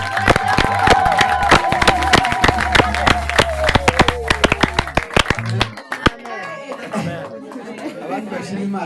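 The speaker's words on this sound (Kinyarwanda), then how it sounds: "dukubitira Imana amashyi" A church congregation in Gasabo district claps hands in quick, steady rhythm for about six seconds, loud and close with lively chatter mixed in, before the clapping stops and voices carry on alone.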